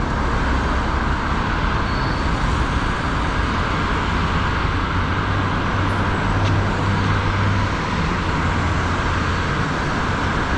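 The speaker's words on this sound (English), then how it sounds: "I should be careful because there are cars turning and going to fuel." Steady Nairobi road traffic near a fuel station, with cars turning in; a continuous broadband rumble of engines and tyres, fairly loud and unbroken, with a low engine drone swelling midway.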